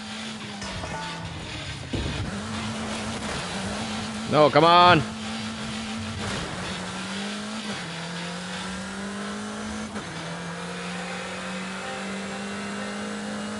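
A car engine in Forza Horizon 5 drone steadily as the car drives fast into the countryside, rising and dropping through gear shifts with a brief sharp squeal midway, while a person speaks briefly.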